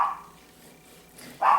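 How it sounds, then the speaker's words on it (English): Two short barks from a dog nearby, one at the start and one at the end, with a quiet pause between them. "Excuse my dogs."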